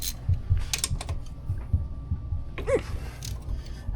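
A wrench loosens the oil drain bolt on a Honda TRX90X ATV, giving a series of quiet close clicks and metallic ratcheting taps with a short squeak partway through.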